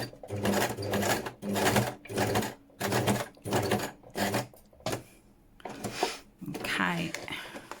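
A sewing machine driven by a lightly pressed foot pedal, running in short repeated bursts of rapid stitching with brief pauses between them, close and fairly loud, with some talk near the end.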